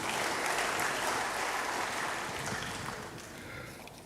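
A church congregation claps together in dense, steady applause that fills the room for several seconds, then slowly thins and softens toward the end, with no voices on top.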